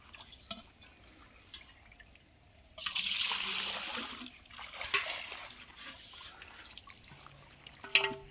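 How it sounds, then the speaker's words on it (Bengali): Water is poured in a short splashing burst beside a pond or ditch, with scattered drips and trickles before and after, close and fairly faint. "একটু জল দিতে হবে, জল দিয়ে রাখতে হবে।"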